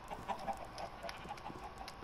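Chickens in Minecraft clucking softly with a few scattered short calls, faint against a quiet background.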